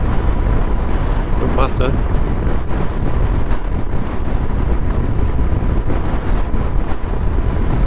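Strong wind buffets a Suzuki GSX-S1000GT motorcycle fitted with a double-bubble screen, producing a constant loud roar against the microphone while someone talks over it.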